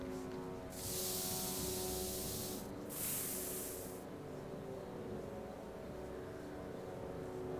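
Spray can hissing in the Back to the Future video game, two loud bursts of spraying, the second shorter, over a steady low background hum.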